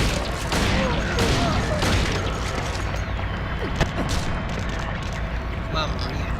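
Rapid gunfire and booming blasts from the survival horror game Silent Hill 2 roll on for several seconds, loud and dense, while a voice talks over the shooting.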